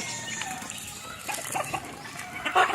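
Backyard chickens and young chicks cluck softly amid a rustling outdoor background, with a louder burst of clucking and wing flutter near the end.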